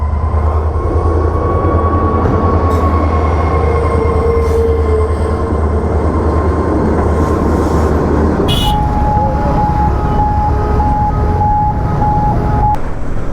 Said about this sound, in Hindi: यहाँ से आ रही है ट्रेन।